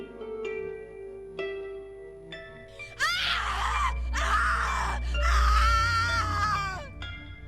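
A victim screams in The Cat Lady horror game, with several loud, drawn-out anguished cries and wails that rise and waver over a low droning game score, following quieter tonal notes.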